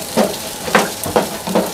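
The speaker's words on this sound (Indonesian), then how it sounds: "Ini goreng sosis, teman-teman ya." Sausages frying in a pan give a soft sizzle, broken by four or five short, louder spatters or stirring scrapes spaced about half a second apart, close by, with no talking.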